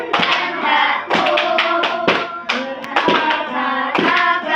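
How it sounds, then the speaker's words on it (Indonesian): A classroom group claps hands together in a steady beat, roughly one clap per second, loud and close, mixed with voices singing along. "ayo tepuk tangan bersama-sama."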